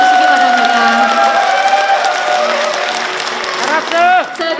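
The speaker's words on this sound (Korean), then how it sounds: "양분남 민주당 광주시당 위원장님 자리하셨습니다. 박수로 환영해 주시기 바랍니다." An indoor crowd at a book launch event applauds steadily to welcome a party chairperson, loud and sustained, with a voice speaking over the clapping near the end.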